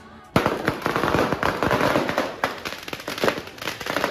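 Firecrackers and fireworks burst at New Year's midnight in Cebu City, a rapid, dense string of sharp cracks and pops, loud and continuous after a sudden start.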